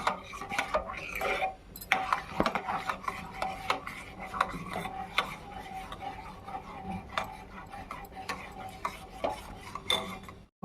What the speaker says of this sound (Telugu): అదిగో చిక్కబడ్డాయి కదా, ఉండలు లేకుండా శుభ్రంగా కలుపుకుందాం.